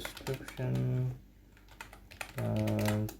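Clicky typing on a computer keyboard during a Notion task and project management tutorial, with short bursts of keystrokes between stretches of a voice talking over them.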